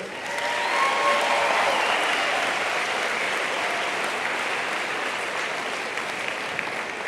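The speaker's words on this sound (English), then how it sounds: "Can I have one more round of applause for the court?" A full round of applause from a high school audience for the senior court, rising quickly and continuing as an even, dense clatter of many hands with faint cheers mixed in.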